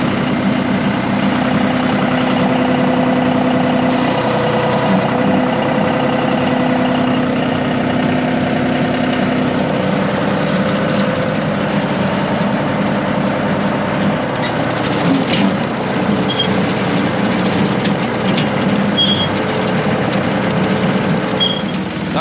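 A tractor engine runs steadily with its PTO engaged at a low dial setting, a continuous mid-pitched mechanical drone heard up close with no break in level throughout.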